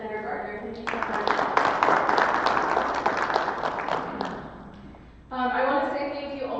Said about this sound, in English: Let's give a round of applause for Senator Gardner.